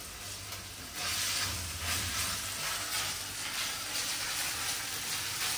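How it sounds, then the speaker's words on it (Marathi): Ginger garlic paste and whole spices fry in a pan for a paneer gravy. The hiss is soft and steady at first, then grows fuller and louder after the first second and keeps going evenly, close by. A thin high whine runs over it, and no one talks. "आणि जिंजर गार्लिक पेस्ट सोबत मी खडे मसाले पण टाकते"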